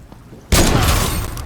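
A single gunshot fires in the Fortnite video game, one sudden loud report that rings out into a sustained, noisy decay.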